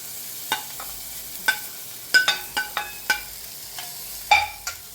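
Large green peas tipped into a hot pan while cooking a fresh pea chutney, giving a run of crisp clatters and sizzling pops, close and moderately loud, with no voices.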